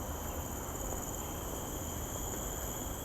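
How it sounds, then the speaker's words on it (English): Cicadas drone in Fort Canning Park, Singapore, a steady, dense high-pitched buzzing chorus that holds unbroken throughout at moderate, slightly distant volume. "you can hear the sound of the wildlife, particularly the cicadas, rubbing away their wings"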